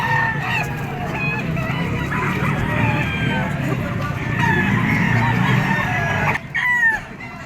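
Gamecocks at a market in Padre Garcia, Batangas, including a yellow-legged 14-month-old bird, crowing and clucking again and again, close and loud, with a busy crowd murmuring and voices behind.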